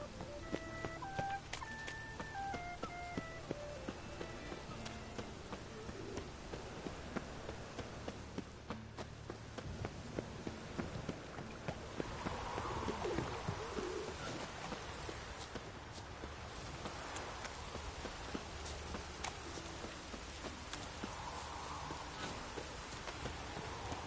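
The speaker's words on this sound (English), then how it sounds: "Looks like rain." Steady rain falls in The Witcher 3, a continuous hiss with scattered drops, while chickens cluck now and then and brief melodic tones play early on.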